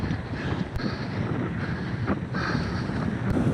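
Strong wind buffets the microphone while cycling along an exposed country lane in North Lincolnshire in winter, a steady loud rumbling roar.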